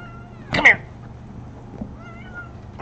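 A house cat lets out two quick meows close by, loud against a faint steady background hum, with quieter room noise after.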